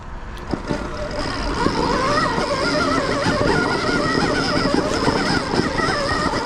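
An electric Stark Varg dirt bike, rated at 40 horsepower, pulls away hard from a stop on a singletrack hill with its rear wheel spinning. The motor whine holds steady and loud, laced with rising tones, over a continuous rough wash of dirt and tire noise.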